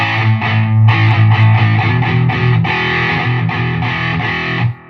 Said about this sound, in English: here is the Metal Zone with the distortion level turned down